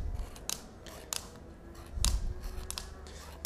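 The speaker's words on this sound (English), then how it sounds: "scissors are actually a bit easier sometimes" Scissors snip through stiff corrugated plastic (coreflute) in a run of sharp clicks and crunches, one heavier cut in the middle, with no talking.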